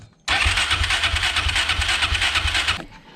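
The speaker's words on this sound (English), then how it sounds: "Let's see if we can get this cranking over, and we'll get the time gun on it." A turbocharged Suzuki LTZ400 quad with Speeduino EFI is cranked over by its starter, a loud, steady rhythmic churning lasting about two and a half seconds before cutting off abruptly.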